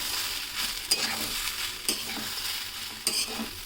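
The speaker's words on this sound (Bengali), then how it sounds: "এবার ভালো করে আবার কষিয়ে নেব।" Peas and broken wheat khichdi stir-fried in a pan, a continuous sizzle broken by three or four sharper scraping strokes of the spoon at irregular intervals, close and steady.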